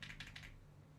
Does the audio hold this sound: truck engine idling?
no